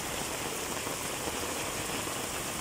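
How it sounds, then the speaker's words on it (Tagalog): Steady, dense hiss of heavy rain pouring down on surfaces, constant and unbroken with no voices. "Grabe yung talsik ng tubig."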